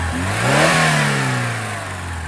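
A Fiat Strada Ultra pickup with a turbo engine and CVT gearbox accelerates hard, the engine note rising smoothly in pitch and swelling, then easing off, heard close with no talking.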